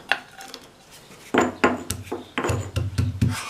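Cashews, almonds and pistachios being pounded in a mortar for arisi paal payasam, heard as a few sharp knocks followed by a quicker run of thudding strikes, close and clear.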